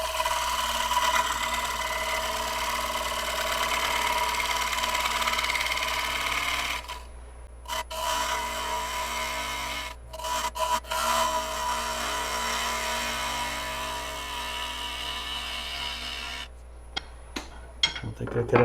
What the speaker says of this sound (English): we want to be cutting delicate little ribbons, not trying to scrape anything off that